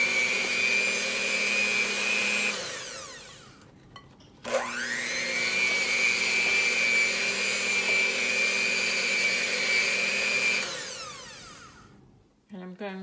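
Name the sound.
mixer combining orange and olive oil cake batter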